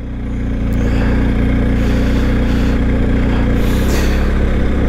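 A motorcycle engine ticks over at low revs on a narrow road in Ireland, a steady close rumble with a regular low throb that holds constant throughout after a brief rise at the start.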